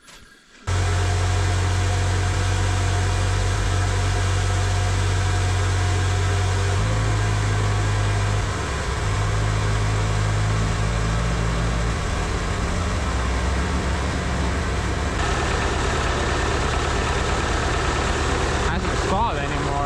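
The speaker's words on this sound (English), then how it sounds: "to me the engine doesn't sound quite right" A motor runs unevenly at idle with a low drone whose pitch shifts and wavers a few times, loud and close, running on without pause.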